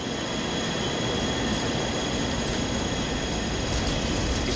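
A jet engine running at 55% throttle gives off a loud, steady broadband roar that holds level throughout without pauses or changes in pitch.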